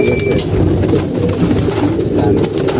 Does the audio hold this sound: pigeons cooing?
yes